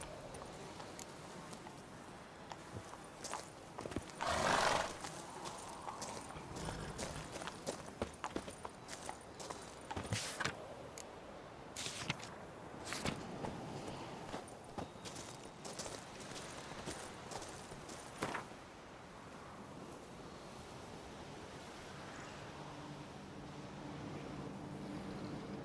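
Hooves of a horse galloping in the video game Witcher 3, a quick clip-clop rhythm over a soft ambient game soundscape, fairly quiet with some louder bursts.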